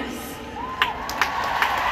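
A live event audience cheers, with crowd noise and a few whoops rising over a steady murmur, short and moderately loud.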